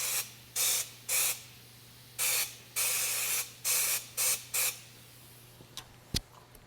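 Powder coating spray gun firing in short hissing bursts, about nine spurts of uneven length in a row with brief gaps, followed by a couple of faint clicks and quiet.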